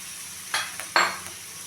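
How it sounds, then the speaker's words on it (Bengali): Small potato pieces seasoned with salt and turmeric frying in hot oil in a home kitchen, with a steady faint sizzle and two brief louder bursts of hissing, likely from stirring, heard alone with no talk. "তেলটা গরম হয়ে গেছে, খানিকটা আলু ভেজে নেব।"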